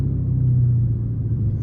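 Dodge Scat Pack car engine heard from inside the car while driving around a roundabout at night, a steady low rumbling drone with a slight rise and fall, loud and close with no talk.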